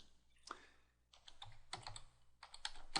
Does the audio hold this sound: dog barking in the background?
no